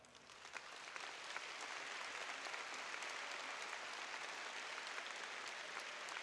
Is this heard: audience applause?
yes